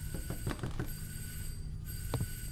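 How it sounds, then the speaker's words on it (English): A telephone rings inside a psychological horror video game, two sharp bell-like ring bursts separated by a pause, loud and close over a steady droning ambient tone. "Do you hear a phone ringing?"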